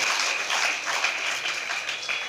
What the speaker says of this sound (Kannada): ಜೋರು ಚಪ್ಪಾಳೆ ತಟ್ರಿ